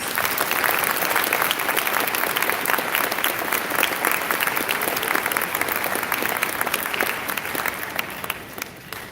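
School assembly audience at a Veterans Day event gives a round of applause, a thick, even wash of many hands clapping at moderate loudness that thins out slightly toward the end.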